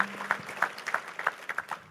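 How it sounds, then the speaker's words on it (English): An audience claps for their parents at an interview event with an NBA legend, a fairly close, uneven patter of hand claps that goes on steadily. "So I want all you guys to give a round of applause to your parents as well."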